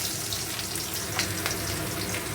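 Panch phoron spices and vegetables for a pui shaak (Malabar spinach) dish sizzle steadily in hot oil, a continuous close crackling hiss with no talking.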